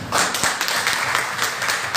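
A church congregation at a deliverance service applauds in steady, dense clapping, loud and continuous, with a faint voice underneath.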